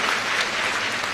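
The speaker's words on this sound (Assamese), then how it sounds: "এটা দীঘলীয়াকৈ হাত চাপৰি বজাই দিয়ক" An audience claps steadily and loudly at an Assam government Lakhpati scheme cheque distribution event attended by the Chief Minister, a dense continuous burst of applause.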